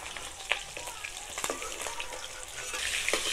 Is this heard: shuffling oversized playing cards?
no